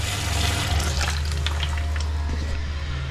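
Hot water runs steadily from a caravan tap, a continuous close splashing stream filling the whole stretch with no talk.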